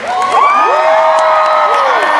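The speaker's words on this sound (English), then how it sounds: "Blue team, it's okay to cheer when you guys get the points. Let's try that again." A children's team cheers after winning a round of a game, a loud burst of overlapping high-pitched shouts and whoops from a close crowd that holds for about two seconds.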